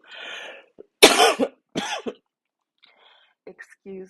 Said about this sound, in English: I'm turning my head to cough